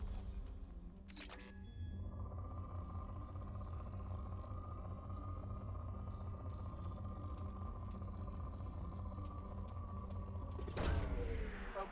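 A probe launching in Mass Effect 2: a sharp burst opens, then a steady mechanical hum with a sustained tone runs for several seconds before a louder whooshing release near the end.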